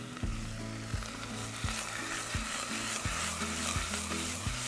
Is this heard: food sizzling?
yes